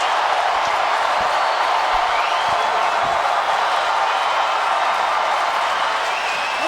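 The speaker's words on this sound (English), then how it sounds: "Listen to this crowd." A football stadium crowd at North Dakota State vs Sam Houston State roars steadily at halftime after an interception, a dense, continuous wash of cheering with no pauses.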